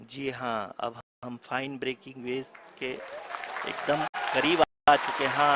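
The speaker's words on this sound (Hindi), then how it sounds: "आप तालियों के गड़गड़ाहट से सुन सकते हैं" Applause from the Chandrayaan-3 mission control room at the moon landing rises in the second half as a broad noisy wash, partly beneath a commentator who keeps talking over it.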